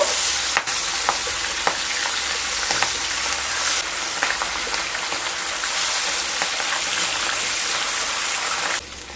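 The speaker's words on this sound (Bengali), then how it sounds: "এবার মাছগুলোকে ভেজে নেব।" Pabda fish fry in hot salted mustard oil in a pan with a continuous loud, close sizzle, a few sharp crackles and pops breaking through, and no talk.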